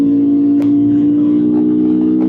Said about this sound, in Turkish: 3. vites Açıyorum